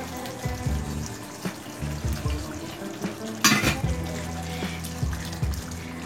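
Bhetki fish pieces slide into a pan of fully cooked, thick spice masala for a Bengali kalia, setting off a steady sizzle with scraping and stirring noises that stay close and fairly loud, including one sharper hiss partway through.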